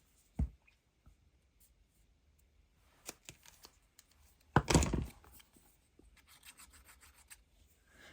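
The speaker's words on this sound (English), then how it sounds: "So let's give this a trim" Paper being trimmed for a junk journal, a few sharp cutting and rustling sounds, with one louder burst of scraping near the middle, close and quiet against near silence.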